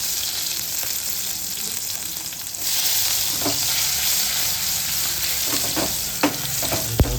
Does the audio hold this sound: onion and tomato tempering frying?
yes